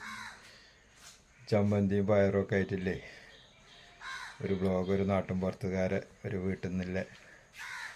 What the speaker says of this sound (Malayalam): ഇത്രയും കാലം നമ്മളെ വീഡിയോയിൽ ഇല്ലാത്ത സൗണ്ടുകളൊക്കെ കേൾക്കും കാക്ക കുരുവി അത് ഇത് ഇതൊക്കെ